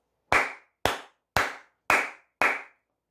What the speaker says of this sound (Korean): 퀄컴도 환영한다는 의미에서 박수 한번 치고 가도록 하겠습니다